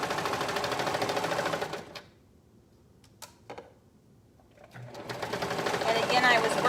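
A sewing machine stitching a seam on a cardigan made from fabric scraps: close, rapid mechanical whirring runs, stops for a few seconds of near-quiet with faint clicks, then starts again and runs on.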